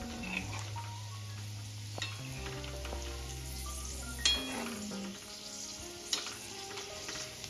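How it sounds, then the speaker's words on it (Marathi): Chinese-style pakoras deep frying in hot oil, a steady sizzle with occasional scrapes and light clinks as they are stirred in the pan, no talking. "आता आपण हे पकोडे हलवून घेऊया म्हणजे सर्व साईड व्यवस्थित तळ्या जाईल"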